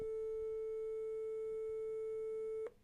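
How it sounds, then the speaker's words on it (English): A steady 440 Hz sine wave from a tone generator holds one unwavering pitch, loud and alone, for nearly three seconds before cutting off abruptly. "First, let's just try the sine wave, and the user gets to put any frequency they would like. Let's just try 440 and click go."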